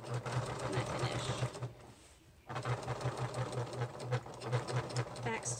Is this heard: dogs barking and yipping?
no